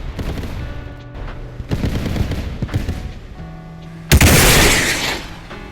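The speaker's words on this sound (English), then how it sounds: "The shot lands, taking out his breech for the autocannons, meaning he can't accurately fire anymore." Video game tank combat with an RPG shot striking an enemy tank: rumbling engine and gunfire-like bursts build to a sudden loud, bright impact blast that sustains briefly before fading.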